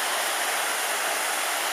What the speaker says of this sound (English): that was the latest of several mini waterfalls.